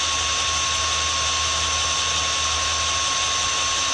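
A power drill drills steadily through a wooden beam during construction of a ranch entrance, giving a constant, loud, close whine with a fixed pitch and no breaks or voices.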